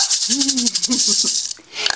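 A quick burst of dry rattling, like wooden maracas shaken a few times, with a faint vocal hum mixed in near the start.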